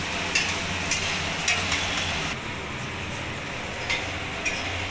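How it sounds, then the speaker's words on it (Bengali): Capsicum, onion and carrot frying in a pan for chicken pasta make a continuous close sizzle, broken by several sharp scrapes and taps of a stirring utensil. "এবার ক্যাপসিকাম, পেঁয়াজ আর গাজরটাকে ভালো করে আমি ভেজে নেব"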